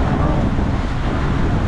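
Strong wind at sea near Bukas Grande Island buffets the microphone, a loud, steady broadband roar with low rumbling gusts throughout the short stretch.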